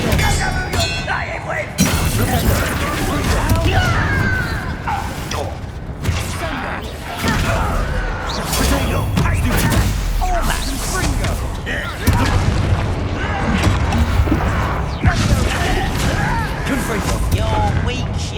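Confringo fire-blast spell explosions in the wizarding video game Hogwarts Legacy, a dense run of heavy booms and crackling blasts layered over combat noise, with voices shouting over the action.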